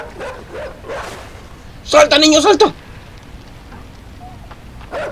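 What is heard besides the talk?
dog barking while chasing the boy, from the video game Inside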